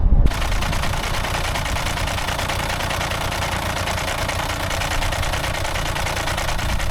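A VW Golf engine fires up after repair and keeps running at a steady, loud, even idle throughout, close to the car with no talk over it.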